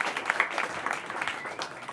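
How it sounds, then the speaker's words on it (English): Scattered applause from a small open mic audience at a music venue, a brief, fairly quiet patter of individual claps with some crowd noise. "Clap it up for that."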